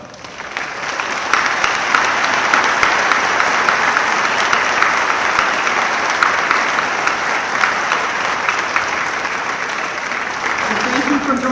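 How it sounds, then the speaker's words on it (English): A graduation audience at Rhodes State College applauds the faculty and staff, a dense, sustained wave of clapping from a large crowd that holds steady and loud throughout. "joining me in adding your applause as we thank the dedicated faculty and staff"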